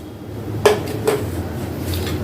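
Ice chips dropped into a container for watermelon juice give two sharp, bright clinks about half a second apart, then only quiet room noise.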